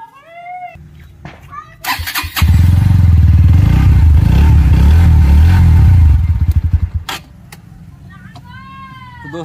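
Bajaj Pulsar NS125 motorcycle engine revving loudly for several seconds, a steady close rumble that rises and then drops away, with speech before and after.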